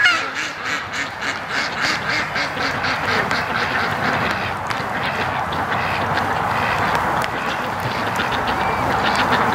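Several ducks quack repeatedly in a busy, overlapping chorus while roaming a property, with steady rain or outdoor noise underneath.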